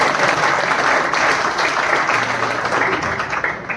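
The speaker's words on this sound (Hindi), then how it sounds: "तालियां" Guests applauding at a father's retirement gathering, a dense, fairly loud burst of clapping that holds steady and eases slightly toward the end, with some voices underneath.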